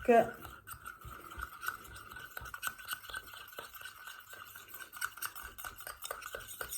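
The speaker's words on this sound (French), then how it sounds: "Donc, on mélange tout ça." Cocoa butter cream being stirred with active ingredients such as kojic acid and antioxidants, giving soft, continuous scraping and swishing sounds at close range and a low volume, with no talk.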